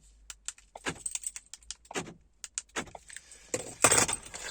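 Metallic jingling of Ford Kuga proximity keys in several quick bursts, close by, with a louder shake near the end and quiet pauses between.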